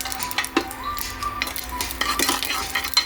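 Cumin seeds, about a spoonful, crackling in hot oil for a home-cooked methi biryani, with a spoon clinking against the pan over steady close sizzle.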